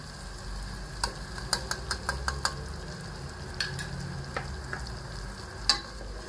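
Tomatoes and green chillies with salt fry in a pan, giving a steady low sizzle broken by a run of sharp spoon clicks and scrapes, then a few scattered knocks.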